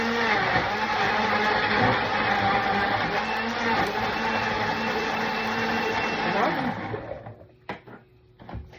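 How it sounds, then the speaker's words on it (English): A blender roughly chops onions and spring roll in a loud, steady whirring run lasting about seven seconds, then cuts off, leaving a few faint knocks and handling sounds. "I'm going to blend it, add it into my pot. So let's do the blending. Roughly, not very smoothly."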